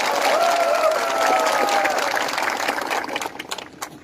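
An audience at a political rally applauds loudly in a dense wash of clapping and crowd noise that gradually thins into scattered individual claps, with a voice briefly audible at the start.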